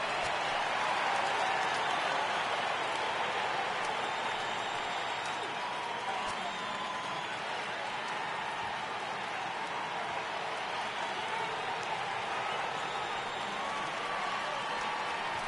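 A steady crowd roar fills a baseball stadium during a Cubs at Padres MLB game, holding at an even level throughout while a commentator talks underneath.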